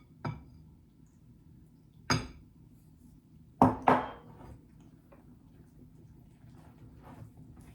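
Pretzel dough ingredients are mixed with butter in a bowl, with a handful of sharp utensil clinks and knocks against the bowl spaced apart over quiet background.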